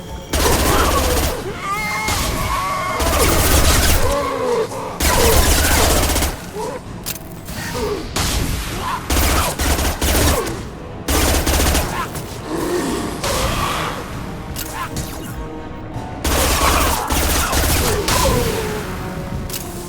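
Heavy gunfire rattles through a Mass Effect 2 firefight aboard a Collector ship, sustained automatic bursts and booming shots repeating with brief pauses, loud and close, with voices speaking at times over the combat.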